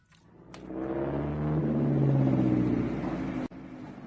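A mighty Daimler motor car drives with a steady low engine rumble that swells and holds for several seconds, with a sharp click near the end.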